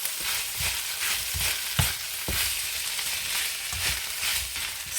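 Rice and vegetables seasoned with paprika, black pepper and salt fry in a single pan, giving a steady close sizzle broken by repeated stirring scrapes at an uneven rhythm.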